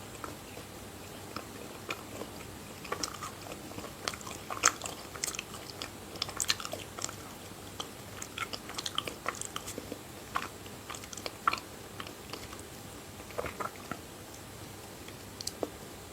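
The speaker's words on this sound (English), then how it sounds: "first biting, then chewing, then masticating, and then swallowing." A pitted fruit being bitten and chewed close up, with irregular soft crunches and wet squishy ticks scattered steadily across a quiet background, no talking.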